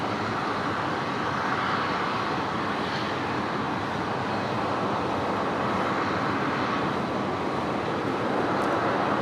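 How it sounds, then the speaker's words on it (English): An Alliance Fokker 100 jet starts its takeoff roll at Brisbane airport, a steady, broad, distant engine roar that stays even throughout with no voices over it. "That is a Fokker 100, Alliance Fokker 100, heading to Rockhampton."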